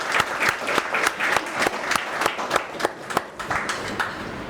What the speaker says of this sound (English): I think you can just clap for yourself for the support.